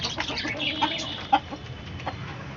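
Native country chickens raised on a rooftop farm cluck in short, scattered bursts, fairly close but soft, with a faint background hiss.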